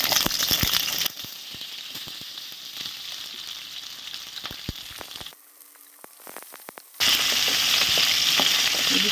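Chopped green chilies and onion frying in hot oil for an egg gravy curry, loud crackling sizzle with stirring clatter; the sizzle drops away briefly, leaving scattered clicks, then returns at full strength.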